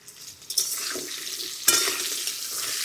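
Potatoes and pointed gourd fry in mustard oil in a pan, giving a steady close sizzle with stirring clatter and two sharper bursts of spitting oil.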